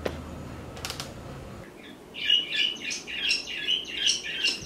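Two pet birds chirp in a rapid series of bright, squawky calls that follow a faint earlier patch of talk, fairly close and repeating in short bursts indoors.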